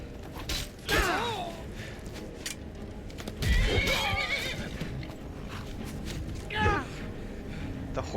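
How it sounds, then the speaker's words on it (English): Several horse neighs and whinnies in The Elder Scrolls V: Skyrim, one near the start, another mid-clip and a shorter one near the end, over a steady background bed with some talk. "The horse is attacking me."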